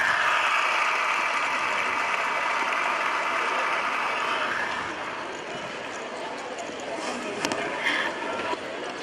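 Parents clapping for prize winners at a school sports meet outdoors, a broad wash of applause that thins after a few seconds amid crowd noise.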